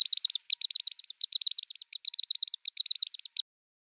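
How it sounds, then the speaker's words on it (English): Birds chirp in a quick, busy series of high, clear tweets repeating steadily for a few seconds, heard alone with no background noise before stopping. "I can select, for instance, a clip of birds chirping"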